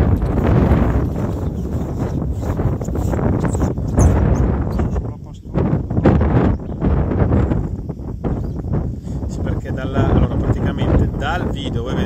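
Gusty wind buffets the microphone at an outdoor fishing competition venue on a riverbank at Ostiglia, a loud, continuous rumbling roar that rises and dips in waves for several seconds, with no clear voices over it.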